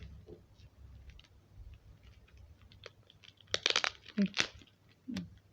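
Soft crinkling of a foil trading card pack gives way to a few sharp tearing rips near the end, close by and fairly quiet.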